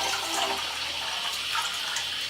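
Hot water runs steadily from a tap into a bathroom sink, a continuous close hiss and splash with no talking.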